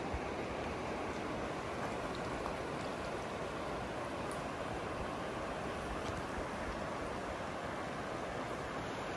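A river flows beside a mountain trail, heard as a faint, continuous, even rushing of water that holds steady throughout, with no voices.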